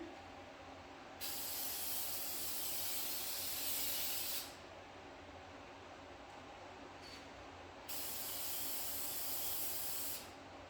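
VHT red caliper paint hisses from an aerosol can onto the brake calipers of a 2019 Nissan Maxima SL in two sustained bursts a few seconds long, separated by a quiet pause and followed by a brief tap.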